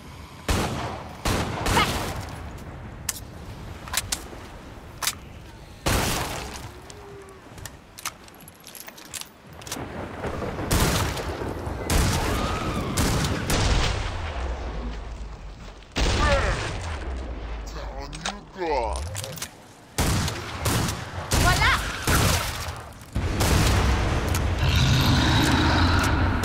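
Gunfire from the video game Killing Floor 2, with dense bursts of rapid shots, rattling automatic fire and clattering metallic effects that keep going with few breaks, mixed with game noise and a voice talking over it.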